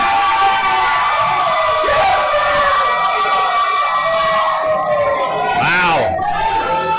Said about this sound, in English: They're booing, they're cheering.